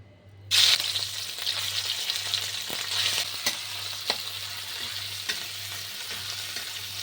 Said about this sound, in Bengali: আমি এগুলো একটু কড়াই ভেজে নিচ্ছি।